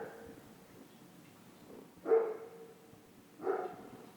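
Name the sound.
neighbour's dog barking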